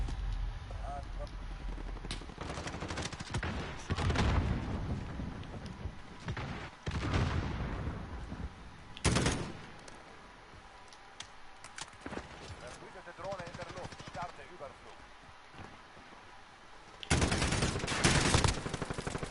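Rapid gunfire from the video game Call of Duty Modern Warfare, bursts of automatic shots and single cracks repeating throughout, some loud and close, with a player's voice talking over the shooting.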